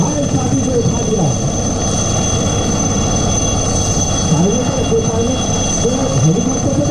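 A military helicopter hovers low during the Swarnim Vijay Varsh air show in 2021, its engine and rotors giving off a loud, steady roar with a constant whine that fills the whole stretch.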